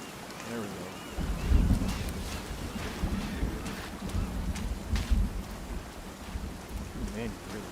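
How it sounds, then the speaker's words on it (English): Rain hisses steadily in a sandbox video game while low thunder rumbles in the distance, swelling in soft rolling waves throughout. "Ooh, man, you can hear the thunder in the distance and stuff."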